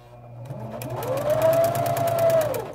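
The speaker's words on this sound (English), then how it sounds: "So I'm going to sew in short bursts." A sewing machine fitted with a walking foot runs a short burst through fabric, rising to a fast, steady mechanical whir with rhythmic ticking, close and alone.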